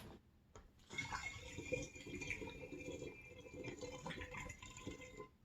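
Honey tea for a maple mead bochet pours through a funnel into a container, a steady, moderately loud liquid rush with faint rattling that runs continuously for several seconds.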